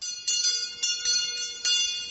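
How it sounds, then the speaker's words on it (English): A dinner bell rings in a radio-style audio drama, a bright metallic clanging struck in repeated uneven strokes with sustained ringing tones, fairly loud and alone with no talk over it. "saved by the dinner bell"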